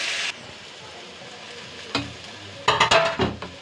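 A blended paste of coconut, mustard, green chilli and cumin hits hot oil seasoned with cumin seeds, giving a sharp sizzle at the start, then quieter frying with a few loud bursts of stirring and pan clatter near the end.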